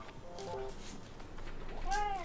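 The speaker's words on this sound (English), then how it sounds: "my cat thinks it's food time" A hungry house cat meows for food, two short meows, one early and a louder rising one near the end, over faint room background.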